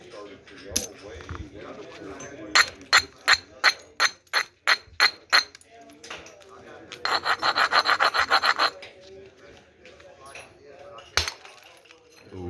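Edwards chert edge abraded to a bevel during flintknapping, a series of crisp, evenly spaced scraping strokes followed by a quick, dense rasping flurry, close by, with a voice speaking faintly underneath.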